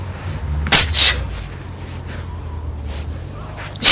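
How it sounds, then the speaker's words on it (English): Two sharp, loud sneezes strike a close microphone in quick succession during a Grand Theft Auto 3 gaming session, then a third burst follows at the very end, over a low background hum. "I had some nasty sneezes that like slapped the mic away real fast"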